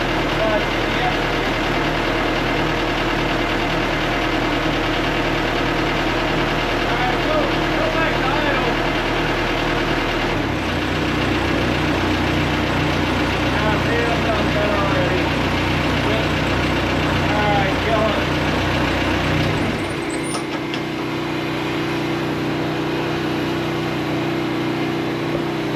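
A Case 1845 skid steer idles with a steady, close diesel rumble that shifts in tone twice as the engine settles, while people talk beside it.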